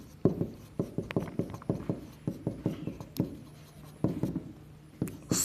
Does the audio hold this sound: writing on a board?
yes